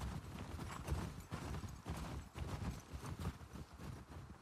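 Horse hooves in The Last of Us Part 2 beat out a quiet, continuous clip-clop at a steady ride, soft and somewhat distant under game ambience.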